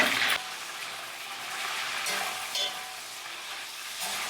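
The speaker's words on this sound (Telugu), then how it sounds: "నూనె అయితే మరిగింది పండు మిరపకాయలు వేసుకుందాం" Ripe red chillies dropped into hot oil for a homemade red chilli chutney, giving a sharp burst of sizzling at the start that settles into a soft, steady frying hiss with occasional stirring scrapes.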